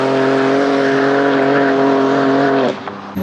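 Loud, close BMW engine holding a steady high rev for nearly three seconds, its strong harmonic drone then dropping off abruptly, during a night cruise of BMW M cars.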